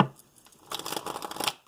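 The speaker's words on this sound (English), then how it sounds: "I'm going to shuffle these again." A deck of tarot cards shuffled close by, a short rapid riffling flutter lasting under a second after a quiet start.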